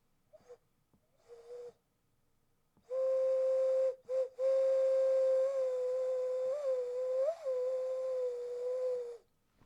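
A person whistles a sustained, steady tone, loud and close to the mic, with slight pitch bends, after a few short, tentative whistles.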